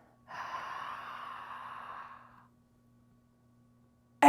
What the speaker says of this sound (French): À nouveau, on inspire encore plus.